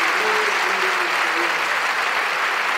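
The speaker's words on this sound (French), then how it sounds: "De forts applaudissements pour notre sœur." A church congregation at a Bible study gathering in Barcelona claps loudly and continuously, a dense and steady wash of applause.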